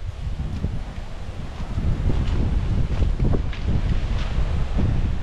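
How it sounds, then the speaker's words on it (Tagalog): Strong wind buffets the microphone at a seaside campsite at dusk, a steady low roar with gusts that swell and stay loud throughout. "Pero ang lakas pa rin ng hangin"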